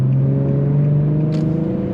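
Car engine pulling hard in second gear from about 40 mph on a highway, heard from inside as a loud, steady drone that holds its pitch, with a brief higher whoosh near the end.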